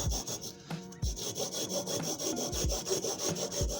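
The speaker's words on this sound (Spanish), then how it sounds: "con la hojita de sierra vamos cortando" A hacksaw blade cuts through a brick in slow, even back-and-forth strokes, a close, gritty rasping rhythm of about two strokes per second with a brief pause partway through.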